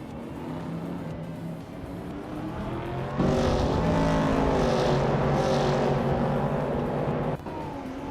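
Race cars drive in a racing video game, a steady droning engine tone that swells louder about midway, holds, and then drops back near the end.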